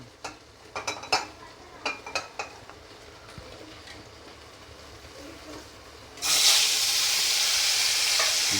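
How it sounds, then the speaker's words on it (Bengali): Bhetki fish pieces coated in salt and turmeric go into hot oil. A few sharp clinks and scrapes of utensils come first, then a loud, steady sizzle bursts up and holds to the end. "ভেটকি মাছের পিসগুলো এখানে মা ইয়ে লাগিয়ে নুন হলুদ লাগিয়ে অলরেডি মিক্স করে রেখেছে আমরা ভেজে নেব তেলটা গরম হয়ে গেছে"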